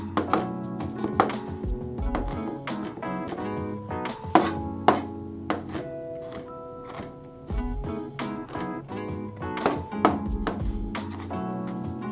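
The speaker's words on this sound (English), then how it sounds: "Then I'll rock my knife back and forth over the ginger to mince it into even finer pieces." A knife rocks back and forth mincing ginger on a cutting board, giving rapid irregular taps and thumps over soft music in a teaching kitchen.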